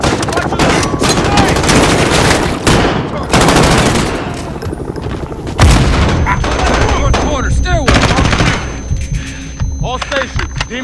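Gunfire in Call of Duty Modern Warfare (2019): loud bursts of automatic and single shots with heavy booms and a low throbbing hum, continuing throughout as voices talk over the fighting.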